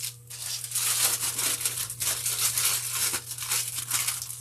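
Carefully packaged wreath-making items are unwrapped, giving close, continuous crinkling and rustling of packaging with bursts of tearing, steady over a faint low hum.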